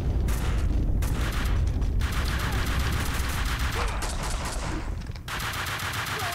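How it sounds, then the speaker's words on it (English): Heavy gunfire in Max Payne 2, with dense rattling automatic bursts and booming blasts close and loud, a continuous barrage with brief gaps and no talking. "you morons throw grenades around"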